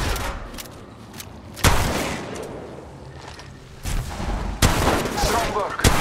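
Gunfire in Apex Legends cracks out in several loud bursts, with sharp shots near the middle and end and quieter in-game sounds between them.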